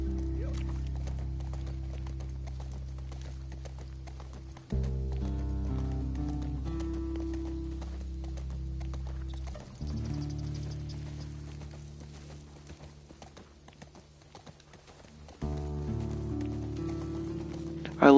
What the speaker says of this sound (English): I love riding the horse.